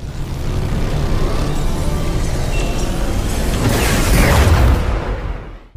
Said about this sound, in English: it proves that the orb is going to explode